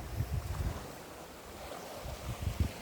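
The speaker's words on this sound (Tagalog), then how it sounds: "So nandito ako ngayon sa ilog no." Open riverside ambience beside the Pidok river, with low gusts of wind buffeting the microphone in uneven bursts and a soft, continuous wash of moving water underneath.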